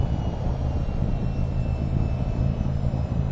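A steady, full-bodied engine roar from an F/A-26B fighter jet in the VR flight game VTOL VR as the throttle is nudged up, holding a constant rumbling drone throughout with no talk over it.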